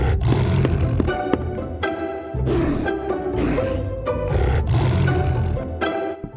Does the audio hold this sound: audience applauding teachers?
no